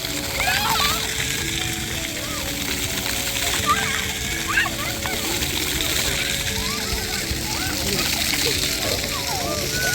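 Children splash and play in water on a family day out, with steady sloshing and splattering alongside their lively voices and chatter throughout.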